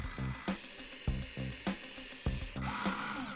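Jupiter cordless silicone caulking gun running continuously after a double trigger press, giving a rapid repeating mechanical ratcheting whir with rhythmic clicks, close and moderately loud, with no voices.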